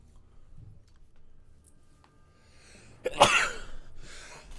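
A single sharp human sneeze bursts out loudly after a few seconds of quiet room tone, followed by a brief breathy tail.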